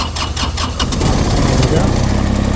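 A LeeBoy asphalt paver's engine cranks with a few rhythmic turns, then catches and settles into a loud, steady running rumble close by.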